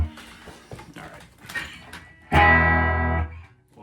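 Electric guitar with its reverb switched off, played out of tune: scattered short picked notes, then a loud sustained chord ringing for about a second.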